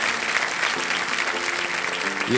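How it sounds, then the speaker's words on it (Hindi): Studio audience applause on a Hindi television quiz show set, a steady dense clapping wash with crowd murmur, continuous and fairly loud throughout. "ये तालियां जो सुन रही हैं आप अनेरी जी, ये आपके हौसले के लिए है।"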